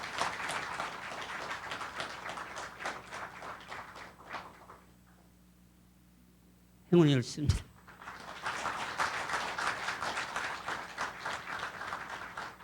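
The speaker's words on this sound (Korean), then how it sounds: "여러분 큰 박수 부탁드립니다" Audience applause fills a hall at a university hospital director inauguration ceremony, a dense steady clapping that drops away to near silence, then a brief clatter and handling noise before clapping resumes. Someone speaks briefly.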